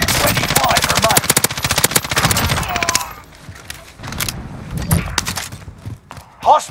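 Gunfire in Call of Duty Warzone on the Caldera map, with dense rapid automatic bursts for a few seconds, then scattered single shots and thumps, while voices talk over the action.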